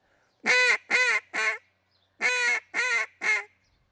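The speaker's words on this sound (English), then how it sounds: "From there, we're going to try 3 notes right on top of each other." Two quick sets of three quacks blown on a duck call, the notes close together and loud, with a short pause between the sets.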